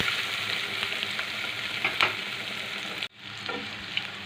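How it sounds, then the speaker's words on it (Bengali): Chopped onions with garlic and green chillies frying in a pan for fish curry with taro, a loud steady sizzle with a couple of scraping stirs and a brief dip where the pan is moved, no talking. "পেঁয়াজটাকে একটু ভালো করে ভেজে নেব।"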